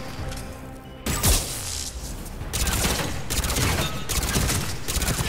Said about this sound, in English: This machine gun is useless.